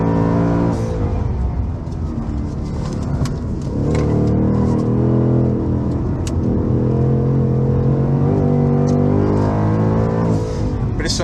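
Ford Mustang Mach 1 with a naturally aspirated V8 and automatic gearbox revving hard on a race track, loud and close, climbing through high revs with quick upshifts that step the engine note down and back up again.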